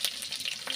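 Onion hits hot oil in a pan, a brief, close crackling sizzle with quick pulsing pops over under a second.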